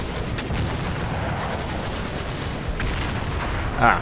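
Gunfire aimed at a Churchill tank in the Combat Mission: Battle for Normandy wargame comes as a dense, steady run of shots and impacts, with a few sharper cracks and a louder burst near the end.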